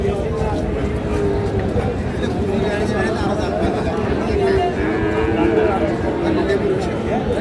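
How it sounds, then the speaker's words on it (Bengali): Cattle at a busy village livestock market low amid a constant babble of crowd chatter, with people talking nearby throughout. "এই ব্যাংকের পাশেও কিছু গরু আছে দেখছি।"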